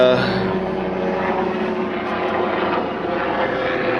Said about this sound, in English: it's a medical flight to the hospital.